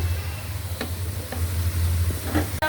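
Cauliflower and new potatoes fry in hot oil with a steady, close sizzle and a low hum beneath it. A few faint clicks and stirring scrapes break through the continuous hiss.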